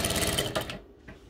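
A sewing machine stitches a straight line on a fabric face mask in a fast, rhythmic run of needle strokes that stops after under a second, followed by a faint trailing tick.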